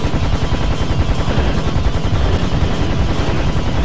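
Relentless gunfire in the Serious Sam HD: The First Encounter video game, a loud continuous rapid-fire barrage of shots with no let-up.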